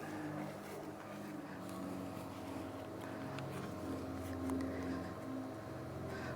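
A power grinder runs steadily on a grill, a continuous motor whine and rumble with no breaks, moderately close and fairly quiet, with no talking.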